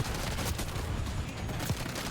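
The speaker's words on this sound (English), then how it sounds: "It seemed like a fast-firing SMG that spits out a lot of damage just because it spits out a lot of bullets." Compact SMG fire in Black Ops 6 rattles out as a dense, fast stream of shots, loud and continuous with a few sharper cracks standing out, no voices over it.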